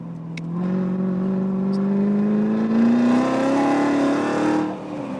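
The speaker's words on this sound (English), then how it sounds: "And that engine noise is not from the Lucid." Race car engine on a track passing close by, a loud rising whine that builds, peaks and fades over several seconds, with no talking.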